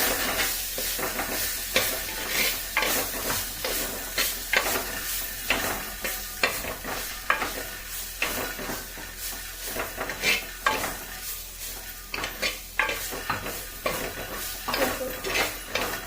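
Salted jackfruit stir-fry frying in a pan, with a steady sizzle and repeated spoon scrapes and clinks against the metal in an uneven rhythm, close and fairly quiet, with no talk.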